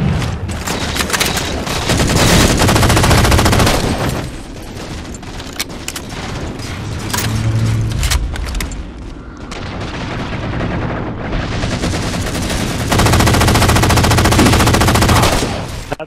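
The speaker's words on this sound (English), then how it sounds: "Railgun." Rapid, dense weapon fire from a railgun in the Halo video game, loud and sustained across the whole stretch with bursts peaking near the start and end, with no talk over it.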